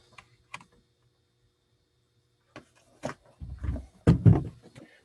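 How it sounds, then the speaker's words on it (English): Mechanical keys on a backlit computer keyboard clack in short sparse bursts, first a few isolated taps, then a denser flurry of close, fairly loud keystrokes near the end, with no talking. "So I got a glowy keyboard with mechanical keys"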